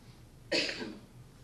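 At a school board meeting, a speaker with a bad cough gives a single short cough, close but fairly soft, over a faint steady background hum.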